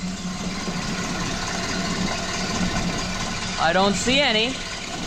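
A 1930 Ford Model A engine idles steadily after a cold start following months of sitting and a carburetor rebuild, a low continuous rumble under a man's brief speech near the end.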